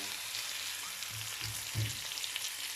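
Oil hisses and crackles in rendered bacon fat in a frying pan, a soft, steady sizzle with a few low bumps and stirs partway through.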